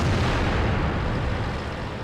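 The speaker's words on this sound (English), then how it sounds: "Just have to peek over, make a pop shot." An STB-1 tank cannon fires a shot in a tank video game, a loud, booming blast whose heavy rumble fills the short moment and slowly decays, with no voices.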